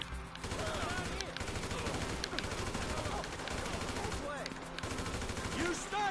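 AK-47 gunfire in GTA 5, sustained rapid automatic bursts nearly without pause, mixed with other game sounds and some voices underneath.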